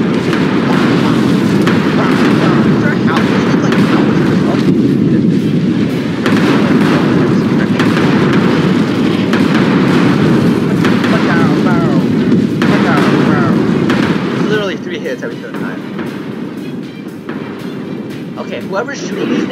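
Artillery fire and explosions in the Forts building and battle game: a dense, continuous barrage of booms and blasts with a voice talking over it, easing slightly near the end.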